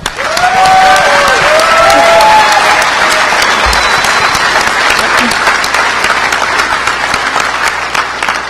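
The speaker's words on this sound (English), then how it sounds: "let's give Wendy a round of applause" Loud, dense applause from a hacking conference audience at an awards session, continuous clapping with some whistles and cheers rising early on, holding strong throughout before easing slightly toward the end.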